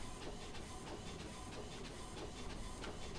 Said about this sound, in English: Yeah, you hear that, printer?